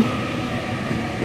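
A Sydney Trains Waratah set on a Macarthur service pulls into the platform at Macquarie Fields station, giving a brief, steady rolling rumble.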